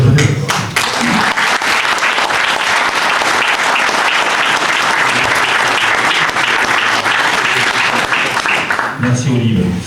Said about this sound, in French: Donc je demande d'applaudir, en fait de nous applaudir,